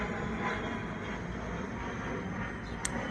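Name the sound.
airplane flying overhead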